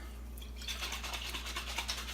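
A covered tomato sauce can holding a little water is shaken briefly, giving a quick rhythmic liquid slosh and rattle that starts after a short quiet moment and stays close and fairly soft.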